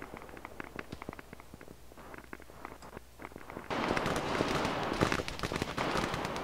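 Soldiers fight in the distance in a military video game, sending faint rapid pops and cracks of rifle and machine-gun fire that grow louder and denser partway through, over a low background rumble.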